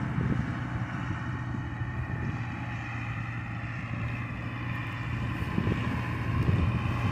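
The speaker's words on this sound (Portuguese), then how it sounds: "Mas olha a ventania já de manhã cedo." Strong early-morning wind blows across a winter wheat field, a steady buffeting rush with a low mechanical hum beneath it, likely from a machine working the field, and no voices.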